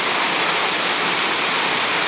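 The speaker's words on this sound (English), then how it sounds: "This waterfall is also called as Study Waterfalls." Spread Eagle Falls in Shillong roars as a loud, continuous broadband rush of falling water, steady and close with no voices over it.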